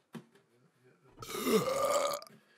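One loud, drawn-out burp rumbles for about a second, preceded by a few brief throaty sounds, with quiet before and after.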